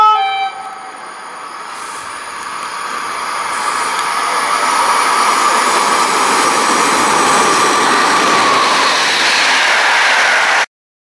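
An express train passes a station with a roaring, broadband rush that swells over several seconds, stays loud and steady, then cuts off abruptly.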